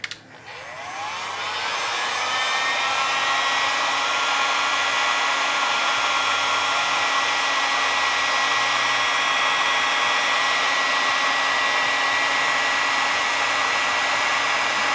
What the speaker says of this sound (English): get the heat gun after it